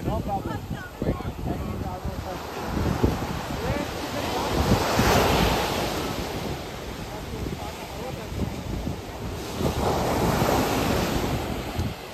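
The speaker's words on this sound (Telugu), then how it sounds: "This is the beach. Okay, చాలా బాగుంది అసలు బీచ్ అనేది" Surf rolls steadily onto a beach in Goa, with continuous wave wash swelling and easing over gusty wind noise on the microphone and voices nearby.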